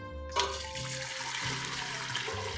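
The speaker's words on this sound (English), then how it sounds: "That's ready, so I'm gonna go ahead and pour the broth" Chicken broth pours into a pot in a home kitchen, a steady splashing liquid stream that starts abruptly and runs continuously at close range with slight gurgling shifts.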